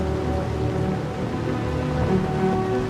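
Wind and heavy rain at sea around a boat in worsening weather, a steady loud rushing hiss with a low droning hum underneath throughout.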